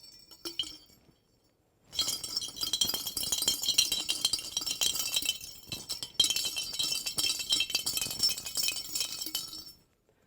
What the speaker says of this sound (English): I take my bell and I put it inside of a glass jar